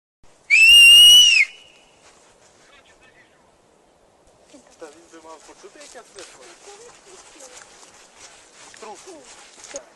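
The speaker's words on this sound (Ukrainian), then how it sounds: "чоловік таки почув свист поліцейських" A single loud, shrill police whistle blast lasting about a second in a forest park, followed by quiet and then people talking.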